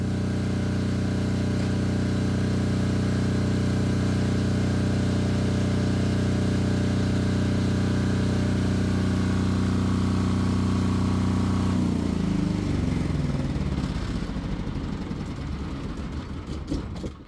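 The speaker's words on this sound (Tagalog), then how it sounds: "May diesel generator ka na, automatic na siya, may remote control, meron ding starter switch." A PHILKING 10KVA enclosed diesel generator runs with a loud, steady low hum and drone that later turns rougher and more uneven before fading at the end, with no voices.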